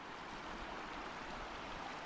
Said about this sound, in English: You see the water flowing from this side